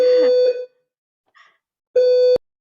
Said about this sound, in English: Gosh, there's a fire alarm going on.